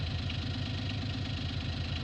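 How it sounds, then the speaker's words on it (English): A large tractor in Farming Simulator 19 idles steadily, hitched to a baler, with a constant low rumbling drone and no voices over it. "Thought we'd go ahead and hook up to the big tractor, just in case the baler needed a little extra oomph"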